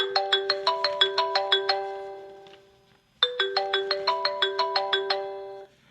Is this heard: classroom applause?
no